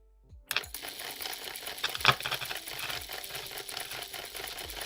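An Xbox 360 disc drive spins up during a game install, giving a dense, rapid mechanical clicking and whirring that starts abruptly and runs steadily at close range, with no one talking.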